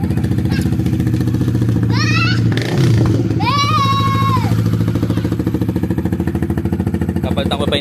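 A Honda RS150 motorcycle engine runs steadily at idle after repair of a blown fuse and burnt negative terminal, a continuous low mechanical drone held throughout, with children's voices and brief whistle-like tones over it.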